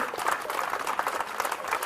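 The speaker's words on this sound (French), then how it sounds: "Je voudrais qu'on applaudisse très très fort tous les bénévoles" Applause for volunteers at the Allonnes town festival, a steady wash of clapping from a crowd that holds at a moderate level for about two seconds without any voices over it.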